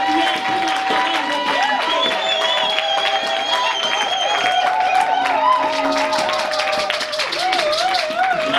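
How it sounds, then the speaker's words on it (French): A church congregation applauds and cheers in a steady wash of clapping that lasts throughout, while voices shout and sing excitedly over it. "Est-ce que vous pouvez acclamer pour la parole de vérité?"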